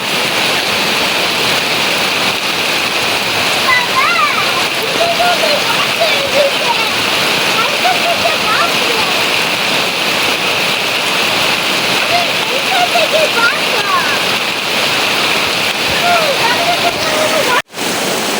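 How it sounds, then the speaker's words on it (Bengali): Heavy rain pours down steadily around an outdoor kitchen, a dense continuous hiss and patter with no wind, while a person talks over it. "আজকে শুধু পানি আর পানি পড়তেছে"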